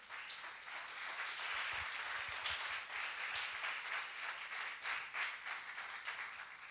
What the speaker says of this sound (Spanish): Un aplauso a Dios, hermano.